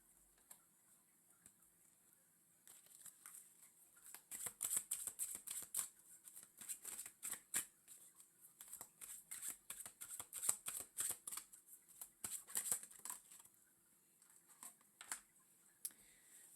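A tarot card deck riffles and shuffles in quick, soft repeated bursts of flicking and pattering, faint and close, with short pauses between runs and no talk.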